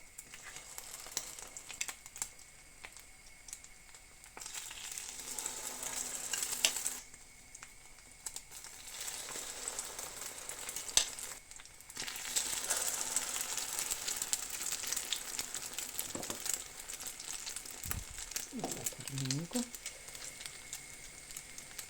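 Steady sizzling of batter-dipped sausage and tomato wafer rounds frying in a pan over medium heat, crackling continuously and close, with brief pauses and faint speech in the background.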